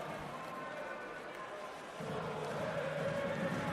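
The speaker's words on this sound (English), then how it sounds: "Crowd on its feet as we approach the final minute of play" An ice hockey arena crowd on its feet in the final minute, a broad roar of cheering that swells midway, with a commentator talking over it.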